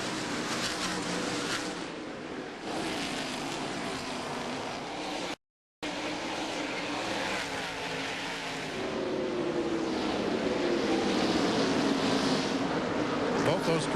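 Busch Series stock cars racing at Bristol's short oval: a loud, continuous roar of several engines, rising and falling in pitch as the pack circles, with a broadcast commentator talking over the noise throughout.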